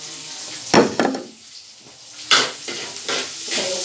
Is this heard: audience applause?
no